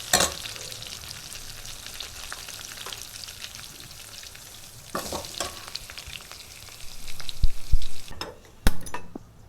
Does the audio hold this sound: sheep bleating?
no